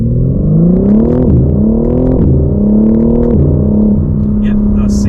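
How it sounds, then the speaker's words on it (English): A 2022 BMW M3 Competition xDrive (G80) in Sport Plus mode accelerates hard from a standstill to 60 mph, its engine note climbing loudly and dropping at three quick upshifts. "we're just going to accelerate from 0 to 60 as that's the speed limit, just to see how fast this car is"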